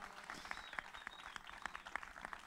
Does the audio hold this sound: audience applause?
yes